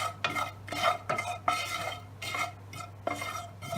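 Whole spices including fennel seeds and star anise fried in a pan for an egg curry, heard as repeated scraping stir strokes with light metallic clinks over a low steady hum, close and fairly loud, no voices.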